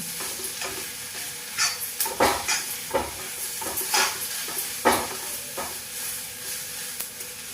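Mushroom and potato curry with chili powder is stirred and fried in a pan. A spoon scrapes and clatters in irregular bursts over a continuous close sizzle, with no talking.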